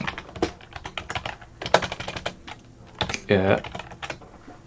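Close, busy typing on a computer keyboard comes in quick uneven bursts of clicks and clacks, with one heavier clattering run of keys near the end.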